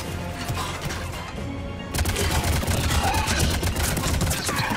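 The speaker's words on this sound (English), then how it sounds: "Let's see how this assault rifle works out, huh?" Assault rifle fire in Mass Effect 3 comes as a dense, rapid stream of loud shots over game ambience, building after a brief quieter moment and carrying on to the end.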